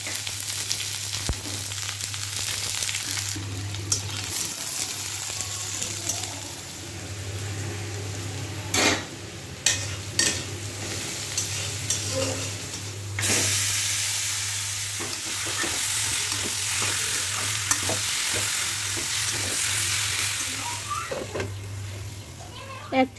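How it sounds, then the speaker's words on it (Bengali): Spiny gourd (kakrol) pieces fry and sizzle in a pan alongside a simmering meat curry, with stirring, utensil scrapes and occasional clanks; someone talks over the cooking throughout. "আর এক চুলায় যে কাঁকরোল ভাজাগুলো করে নিব"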